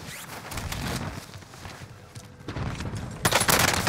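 Gunfire in the Call of Duty battle royale on Rebirth Island: scattered shots and bursts crackle over a busy game backdrop, growing louder and denser toward the end.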